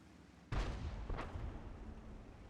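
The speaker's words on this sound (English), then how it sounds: "There is one artillery." Single artillery blast in a tank video game, a sudden loud boom followed by a rumbling decay and a second fainter crack about a second later, over steady low background noise.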